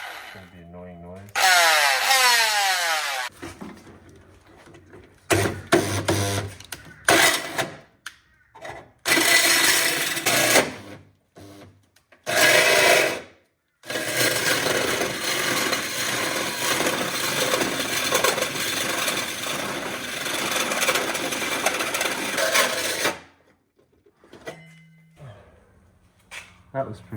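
A power drill bores through a metal part during work on a compound-turbo rotary-engine Tesla build, running in loud sustained whining bursts that start and stop, with one long continuous stretch and brief pauses between, and people talking near the start and end.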